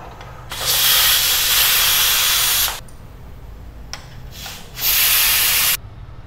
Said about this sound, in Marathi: आपल्या एका साईडला शिट्टी पण होत आहे कुकरला